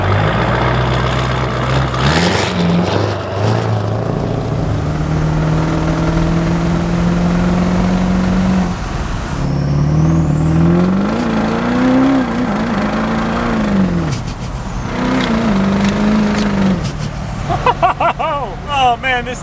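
A Minimax truck with a new turbo setup, running on stock head gaskets, revs its engine in a sustained, loud drone whose pitch climbs and dips through repeated pulls, with voices talking over it.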